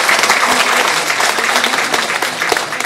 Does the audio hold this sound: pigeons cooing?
no